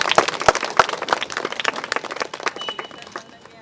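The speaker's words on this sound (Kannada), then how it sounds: "ಜೋರಾಗಿ ಚಪ್ಪಾಳೆ ಹೊಡ್ಕೊಳ್ಳೋಣ." Sharp, close handclaps from an audience at a pyramid meditation group's fourth anniversary program in Swanth Colony, Ballari, heavy at first, then a quicker, lighter patter that tapers away over a few seconds.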